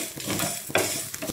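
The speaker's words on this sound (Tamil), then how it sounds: "படப்படன்னு பொரியிற சத்தம் கேட்குது பாருங்கள். மிளகு சீரகம்லாம் நல்லா பொரியுது." Black pepper and cumin crackle while dry-roasting in a pan, with small scattered pops and sizzle over a steady hiss, one sharper burst in the middle, close and moderately loud.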